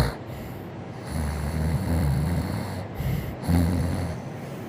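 A person imitates a cat snoring with slow, close, breathy rasping snores, two drawn-out inhales separated by a brief pause.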